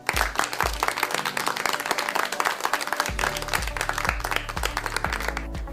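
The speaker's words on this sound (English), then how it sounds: "You all deserve an explosion claps for a job well done." Applause and clapping ring out during a school radio math lesson broadcast, a bright, busy patter of many hands played over a pulsing low musical beat that continues throughout.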